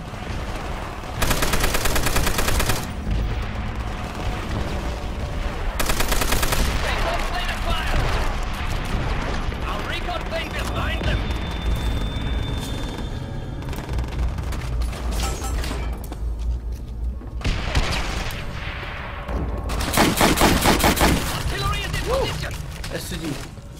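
A Browning machine gun fires in the Call of Duty video game in sustained loud automatic bursts over a continuous battlefield roar of explosions and distant gunfire. Someone talks over the action.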